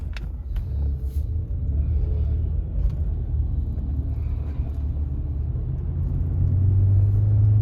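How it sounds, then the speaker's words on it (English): Steady low rumble of car traffic on a New York City street at night on a Friday, continuous and close, with engine drone swelling slightly toward the end. "There's always traffic around here."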